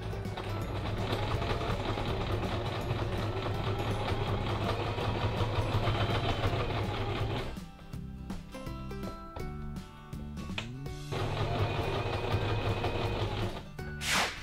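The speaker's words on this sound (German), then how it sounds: "näht dann einmal hier diese Naht zu und diese Naht zu, bis ganz nach oben" A sewing machine runs steadily while stitching the side seams of a fabric phone pouch, with a loud continuous motor hum. It stops briefly midway for a few handling clicks, then resumes at full speed.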